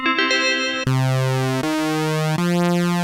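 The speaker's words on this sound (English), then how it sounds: "The sound you hear is doubled and detuned." A sustained synthesizer tone with a thick, beating, detuned doubling, stepping through four held notes, loud and steady with no talking.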